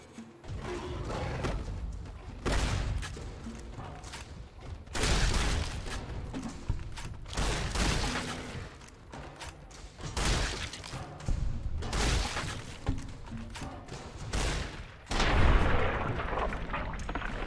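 Combat shotgun fire in the Fallout New Vegas video game: a series of punchy, booming blasts at irregular intervals, some in quick pairs, over a softer game background.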